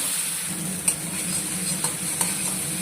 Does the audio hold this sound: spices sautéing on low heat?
yes